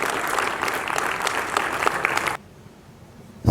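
Audience applause at an annual day event, a full crowd clapping briskly for a couple of seconds before stopping abruptly into near quiet.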